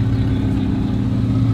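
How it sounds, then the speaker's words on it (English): A car exhaust rumbles with a steady low engine drone, close and fairly loud, holding a throaty idle-to-rev tone without any speech. "No, that's an exhaust."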